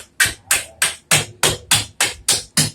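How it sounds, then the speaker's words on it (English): Hammer tapping a rear swing arm bushing into place on a 2005 Honda TRX450 ATV: nine sharp, evenly spaced metallic blows close by, steady rhythm, with no talking. "I'm going to get a hammer here"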